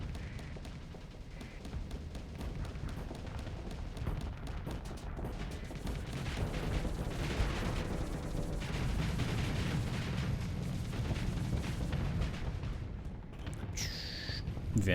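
Missiles and torpedoes fire in the space combat game Starsector as a dense, continuous barrage of rumbling launches and booms, with rapid bursts and a sharp tonal blip at the end.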